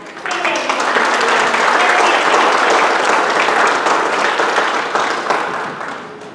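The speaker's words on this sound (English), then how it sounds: "So give them a round of applause" A church crowd at a Vacation Bible School claps loudly and continuously for several seconds, swelling fast and fading out near the end, with faint voices mixed in.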